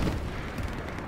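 Gunfire in the World War II shooter Hell Let Loose, a single dull, booming report with a rumbling tail, heard at a distance.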